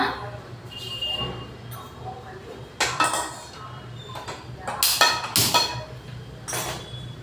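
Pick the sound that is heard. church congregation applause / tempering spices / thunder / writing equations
tempering spices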